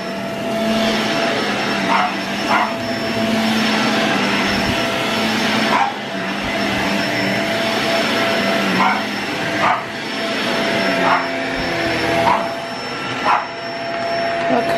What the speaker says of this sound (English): Do you like the vacuum?